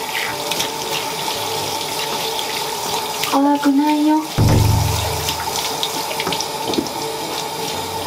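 Shower water runs in a steady, close rush with a brief lull during a Jack Russell Terrier's bath, while a voice speaks softly and the dog's whiny cry rises over it.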